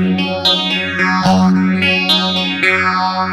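Electric guitar played through a Nux Mighty Air amp with jazz chorus cabinet simulation, several strummed chords ringing close and loud with a lush, shimmering chorus wash and slight reverb.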